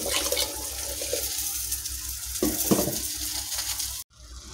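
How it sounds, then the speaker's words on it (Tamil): Water poured into a simmering pot of tomato rice made with ration rice, a continuous splashing gush over bubbling and sizzling that cuts off abruptly near the end. "இங்கே தண்ணி கம்மியாக ஆக இந்த தண்ணியை நம்ம ஆட் பண்ணிக்கலாம்."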